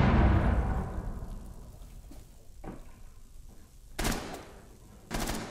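A heavy burst of gunfire fades out, followed by a few sharp, isolated shots, no voices.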